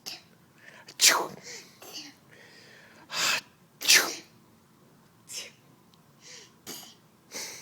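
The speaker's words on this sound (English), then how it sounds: "Achoo." A woman fakes a series of sneezes indoors, about half a dozen sharp breathy bursts spaced a second or so apart, with soft gasps and whispery breaths between them.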